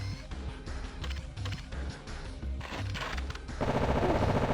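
Rapid automatic gunfire from the video game Death Jr. rattles in dense, repeated bursts over game music, growing louder and more continuous in the final second.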